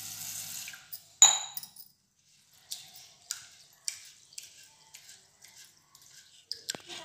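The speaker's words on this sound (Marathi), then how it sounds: "तर आधी तांदूळ धुवून घेऊया" Rice is washed by hand in water for a homemade Korean face mask. Soft splashes and swishes come close and intermittent, with short sloshing bursts and small drips separated by quiet gaps, and there are no voices.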